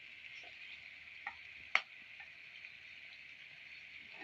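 Chicken pieces frying in hot oil in a large pan on a big stove, a steady, fairly faint sizzle hiss with one brief sharp crackle near the middle. No one speaks.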